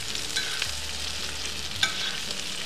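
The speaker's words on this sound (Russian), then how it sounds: "Все, перемешиваем вместе с картошкой." Eggplant and potatoes sizzle in a sadj pan while being stirred, a continuous frying hiss broken by a couple of soft scraping knocks from the stirring, with no voices.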